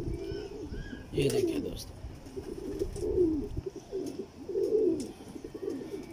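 A pair of teddy pigeons from Mian Nazeer's bloodline give low, rolling coos in several soft bursts, close by, while someone talks over them.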